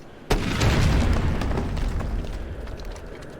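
A section of the level in Far Cry Instincts Predator is blown up: one sudden loud explosion boom followed by a long, rumbling roar that slowly fades, with no talking.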